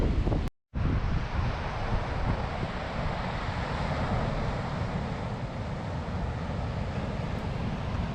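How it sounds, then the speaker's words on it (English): Massive North Sea waves ripping onto a wild Scottish shore with strong wind, a constant loud broadband rush dominated by buffeting wind noise, interrupted by a brief dropout near the start. "These massive waves ripping in at the far side of the shore here."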